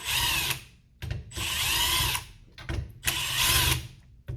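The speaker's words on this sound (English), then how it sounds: "Back to the drill for that." A power drill whirs in three short bursts of about a second each, removing scope ring screws, separated by brief pauses with small clicks and handling sounds.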